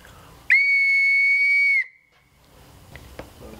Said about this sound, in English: Now our whistle is ready. Let's blow it.